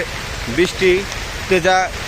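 Rain pours steadily at the Donia cattle market in Bangladesh, where cattle shelter under tarpaulins and polythene sheets; a constant near hiss runs beneath someone speaking.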